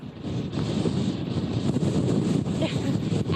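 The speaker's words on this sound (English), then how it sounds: "As you're saying that, Joe, we're getting another big gust of wind" Strong wind gusts batter a microphone on a boardwalk, a loud continuous roaring rush that swells and buffets throughout without letup.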